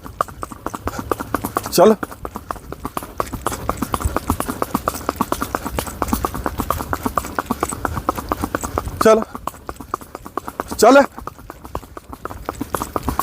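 A Sindhi mare clip-clops steadily as she walks, her hooves landing in a close, even rhythm while a man repeatedly urges her on.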